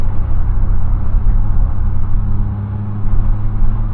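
Triumph 2.5 PI with a manual gearbox being driven on the road, a loud, continuous low engine rumble heard from inside the car with no pauses.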